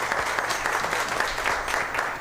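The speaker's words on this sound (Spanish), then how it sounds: "Aplausos para esto, que esto comienza bien." Brief, loud, close applause from a studio audience at the start of a live café show, continuous dense clapping filling the whole moment.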